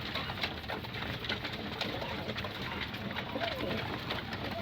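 Racing pigeons coo repeatedly in a loft, a dense steady chorus of overlapping low calls close by with constant background noise.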